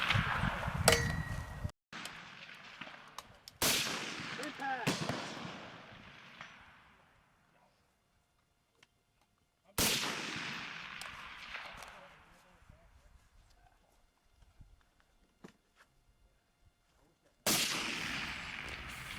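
FN SCAR 17 rifle shots ring out at a DMR match, several sharp loud cracks spaced seconds apart, each trailing off in a long outdoor echo with quiet gaps between.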